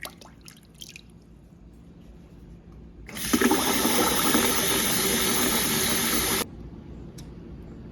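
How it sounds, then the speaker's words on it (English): Water gushes loudly into a bucket being filled for a rinseless car wash of a WRX, a steady hiss-like rush starting suddenly midway and cutting off abruptly after about three seconds, with quieter dripping around it. "I'm gonna fill it up full of water"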